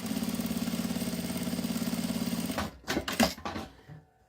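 A sewing machine stitches along the fold of a wallet pocket, running steadily and loud for about two and a half seconds, then stopping, followed by a few handling clatters.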